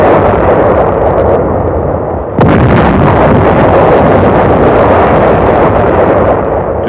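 Ships and aircraft of a United Nations fleet bombard the Incheon area, making a loud continuous rumble of explosions. A sharp heavy blast comes partway through, followed by dense, roaring detonations.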